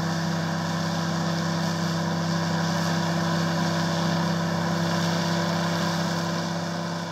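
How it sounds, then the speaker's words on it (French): A tractor fitted with a front mulcher and a rear tine cultivator runs steadily in a field, its engine drone loud, continuous and unchanging, with no voices. "on utilise donc un outil combiné, c'est-à-dire un tracteur qui est équipé d'un broyeur à l'avant et d'un cultivateur à ailette à l'arrière"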